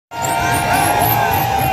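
Crowd noise at a car burnout show featuring Subarus and other tuned cars, a steady loud wash of voices and cheering with a continuous engine-like drone underneath, sustained throughout.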